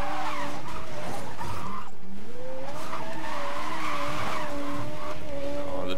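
Car drifting in the racing video game Need for Speed: Most Wanted, driving an Atom car, with a steady engine drone and sustained screeching tire squeal rising and falling across the stretch, loud and close, no talk.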